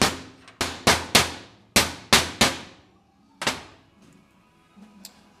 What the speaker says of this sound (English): So I'm just gonna go real lightly here with a hammer